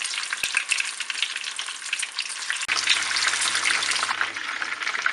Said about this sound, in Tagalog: So, sa frying pan, nagpainit na ako ng mantika. So, iprito na natin to.